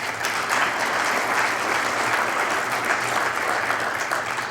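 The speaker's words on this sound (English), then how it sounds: "So please give them all a round of applause." Audience at an annual meeting's closing remarks giving a round of applause, a dense, steady roar of clapping, loud and unbroken from start to finish.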